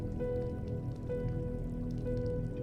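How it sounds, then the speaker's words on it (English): Water runs and patters steadily in a horror game set in an asylum, a soft continuous trickle with a low ambient hum beneath and no voices. "I hear the water though."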